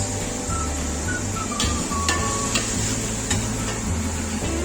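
Oil-sautéed ingredients for kapuska sizzle steadily on a ship's electric hot plate, a loud continuous frying hiss with a low engine-like hum beneath, sharp clicks and a brief tonal whine, with no speech.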